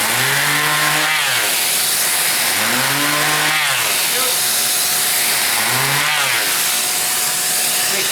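A motorized buffing wheel polishing a handmade part, a loud continuous hissing whine that dips in pitch three times as the piece is pressed against it.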